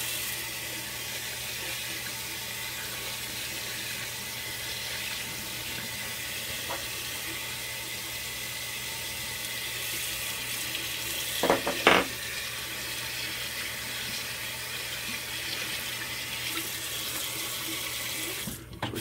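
Tap water runs continuously at a moderate level after being switched over to cold, a steady hiss with a brief knocking of the handle partway through.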